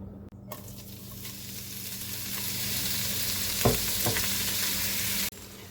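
Sliced sausage coins browning in a pan for a stew: a steady, loud sizzle of frying that builds after a brief start, with a couple of stirring scrapes near the end before it cuts off abruptly.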